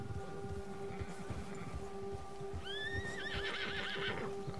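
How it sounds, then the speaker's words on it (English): A horse neighs in a rising, shaky whinny, spooked by a nearby bear in the video game Red Dead Redemption 2, over a constant low rumble and steady tones in the background. "The bear has spooked your horse."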